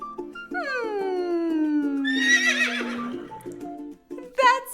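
A horse gives a long, clear neigh that starts high and slides downward over about three seconds, close and prominent, with a brief bright squeal near the end.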